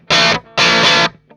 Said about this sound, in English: that's just my amp on distortion in the basement mode, pushing all those mid ranges.